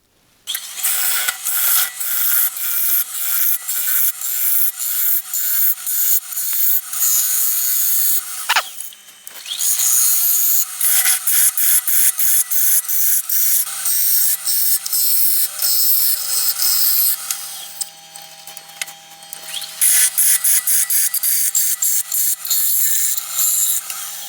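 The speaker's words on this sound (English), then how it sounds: "the next step is to just hollow the rest of this bowl out and try to keep that wall thickness as consistent as I possibly can" A 40/40 wood gouge hollows a green wood bowl on a lathe, producing a loud, steady scraping and rasping cut that runs in long passes with brief pauses, close and alone.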